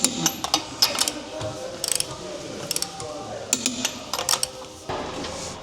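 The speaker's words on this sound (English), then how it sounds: "I'm just going to torque tighten them. Don't want the wheels to be falling off" A torque wrench tightens the wheel nuts on a used car, producing quick clusters of ratcheting clicks in short bursts with small gaps between them, close and fairly crisp, with some faint talk nearby.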